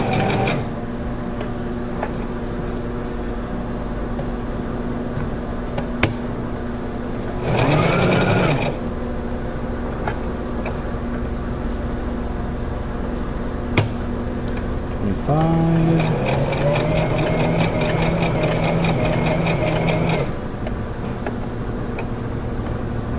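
A Brother XL3750 sewing machine stitches in two short bursts of rapid mechanical whirring and needle chatter, close and clear, separated by a quieter hum of the idle machine with occasional clicks.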